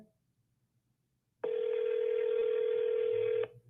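A telephone call rings before reaching voicemail: silence, then a single steady ringback tone lasting about two seconds that cuts off abruptly.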